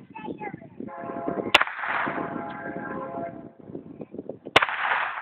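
Two loud, sharp gunshots from a big gun at an outdoor shooting session crack out about three seconds apart, each followed by a brief rumbling echo, with people talking throughout.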